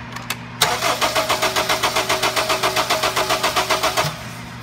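A 2007 Honda Fit with a cylinder three misfire cranks over for about three and a half seconds, its starter turning the engine in an even, rapid rhythmic chug without catching, heard up close.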